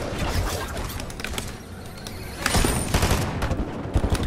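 Gunfire in a video game, a rapid burst of sharp repeated shots, loud and close, spread across a few seconds with short pauses between volleys.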